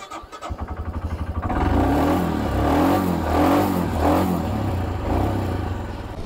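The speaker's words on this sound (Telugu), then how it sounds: "మన బండిని వార్మ్ చేద్దాం కొంచెం సేపు, ఎందుకంటే ఇది రాత్రి చలిలో ఉంది కదా" A motorbike kept outside overnight in the cold on a ride from Leh starts with a sputtering, uneven idle, then settles into a steady, revving warm-up drone close by.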